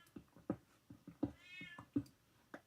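A pet cat meowing repeatedly indoors, a string of short, close meows in an uneven rhythm with one longer drawn-out call in the middle, fairly quiet and alone.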